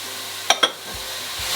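Celery stirred in a hot pan for turkey meatballs gives a steady sizzle, with two quick scraping clicks from the stir standing out before the frying hiss settles back.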